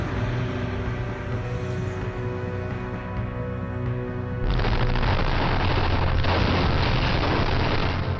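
A massive blast at the Beirut port: a steady loud roar of burning gives way to a sudden, broad, rumbling boom that sustains heavily to the end, with no voices.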